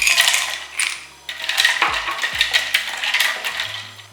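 Ice cubes dropped into a container for nungu sarbath, sharp close clinks and clatters in quick succession, loud and alone.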